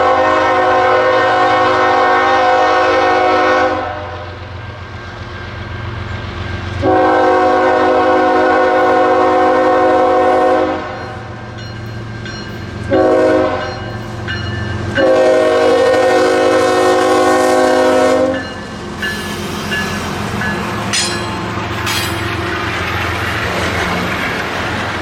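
A CSX freight train in Dalton sounds its horn in several long, loud blasts while passing, with a steady rumble of rolling cars and clanking wheels continuing between and after the blasts.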